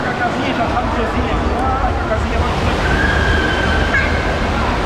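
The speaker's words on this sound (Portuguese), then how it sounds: "agora tá começando outro tipo de onda" Waves rolling and sloshing in an indoor-outdoor wave pool at Acquamotion thermal water park in Gramado, a steady loud wash of water with crowd murmur underneath.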